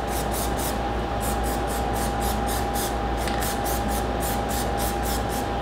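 Plasti Dip sprayed from an aerosol can onto a Dodge Challenger in a series of short, evenly spaced hissing bursts over a steady background hum, close and moderately loud, with no talking.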